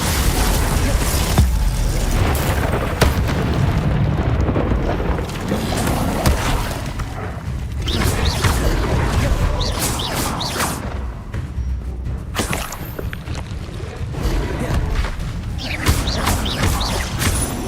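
Spells burst and explode in Hogwarts Legacy combat, a dense run of booming blasts, crackling impacts and whooshes that comes in repeated loud bursts throughout, with a voice calling out spell names at times.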